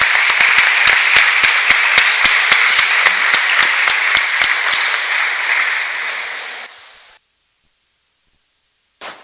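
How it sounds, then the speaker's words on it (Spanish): A church congregation claps as an offering of applause, a loud, dense wash of many hands beating together, with a steady rhythmic pulse running through it, before it fades to near silence. "Recibe una ofrenda de aplausos"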